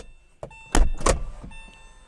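The electric convertible top of a Porsche Boxster 986 opening: a click, then two short bursts of motor whir and mechanism clunks close up in a quiet setting, settling into a faint hum.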